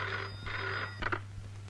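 A telephone bell rings in a short, fairly quiet burst over a steady low electrical hum.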